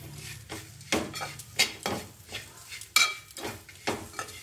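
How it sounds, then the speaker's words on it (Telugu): Onions frying in a pan with almost no oil, stirred with a spoon that scrapes and clinks against the metal in irregular strokes over a soft sizzle; no one speaks. "ఇట్లా ఎల్లిపాయలు పచ్చివాసన పోయేంత వరకు కొంచెం ఒక 5 మినిట్స్ అలా ఇలా తిప్పుతూ ఉండాలి"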